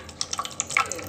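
Blended ash gourd (white pumpkin) juice is strained through a filter, giving a close, brief, splashy trickle with scattered drips.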